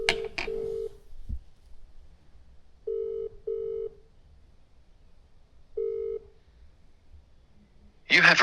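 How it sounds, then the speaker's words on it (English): A phone call placed from a mobile phone: a few quick dial beeps, then a gap, then repeated electronic ringback tone pulses in pairs with pauses between them, clear and close, followed by a burst of noise at the end. "Alright, we'll give him a call."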